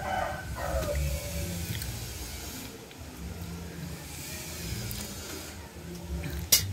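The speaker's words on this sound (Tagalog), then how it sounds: "Kasama niya yung mga manok kumakain." Chickens feed outdoors while a rooster and hens cluck and call faintly through a noisy background of wind and distant traffic, no talk in between.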